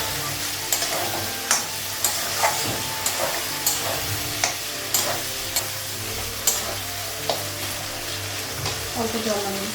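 Potatoes and moringa drumsticks fry in a pan with a steady close sizzle, broken by regular clicks of a spatula stirring, and a voice talks quietly in the background.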